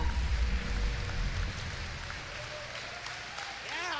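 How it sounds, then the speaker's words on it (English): A small group claps in a busy room, the applause blending with low rumble and background noise, with a faint tone sweeping upward near the end. "Clap for it."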